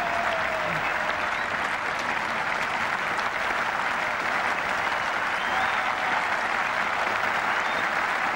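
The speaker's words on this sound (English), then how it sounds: "The England balcony applaud and approve." Sustained applause at a 1990 England versus India cricket Test match as a batsman reaches fifty, a steady, even wash of clapping from the crowd and balcony with no break.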